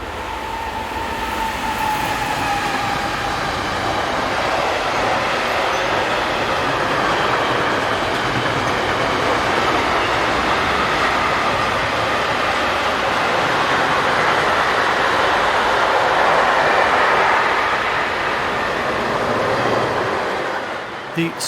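A class 187 electric locomotive hauls a mixed freight train past on a German main line, a long, loud, continuous rumble and rolling clatter of wagons that swells and fades near the end.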